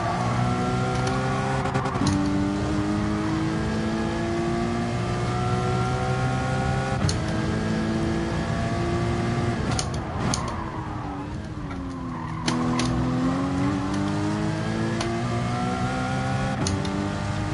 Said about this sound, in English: Sounds a little bit blowy, this exhaust. Sounds like it's got a hole in it.